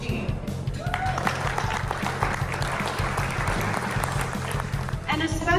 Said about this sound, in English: I want to give you guys a big round of applause for everybody here tonight